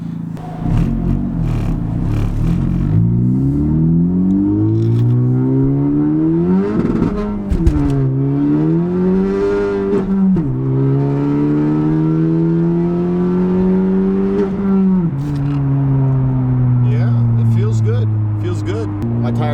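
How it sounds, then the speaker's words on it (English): Car engine revving hard through a pull on a drive toward Mexico in cold weather, a steady loud drone that climbs in pitch, drops at each shift and climbs again, with people talking over it. "Alexandra, get the shift knob while we do a bit of a pull here."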